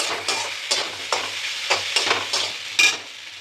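Tomatoes fry in a wok for homemade pasta while a spoon stirs them in regular rhythmic strokes over a constant close sizzle, each scrape rising briefly above the hiss, with no voices.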